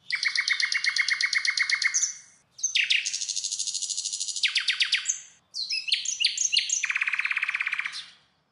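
A nightingale sings in three bursts of rapid, trilling and warbling phrases, loud and close, separated by brief pauses.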